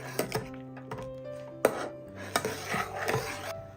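A spoon stirs china grass melting in milk in a pan, with soft scraping and several distinct knocks against the pan in an irregular rhythm, close and moderately loud.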